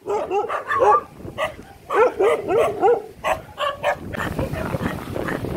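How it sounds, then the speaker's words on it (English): Wild dogs bark repeatedly nearby in a neighborhood, several sharp, loud bursts in quick succession, with some yipping and background noise toward the end. "Wild dogs coming at me."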